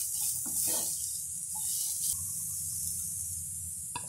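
Mixed vegetables with carrots fry lightly in a pan under a steady high sizzle, broken by a few scraping stirs of a spatula early on and one sharp clack near the end.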